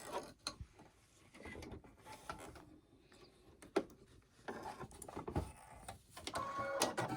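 A home embroidery machine stitches quietly, giving off an uneven run of mechanical clicks, taps and whirring needle strokes with brief pauses and a sharper knock near the middle.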